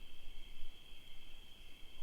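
Crickets chirp in a steady, unbroken high trill close by, quiet and continuous at a Zen mountain monastery, with no voices.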